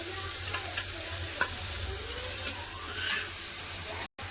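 Ground spice paste sizzles in hot oil in a pan while being stirred, a close, steady frying hiss broken by a few distinct scrapes and clicks of the spoon.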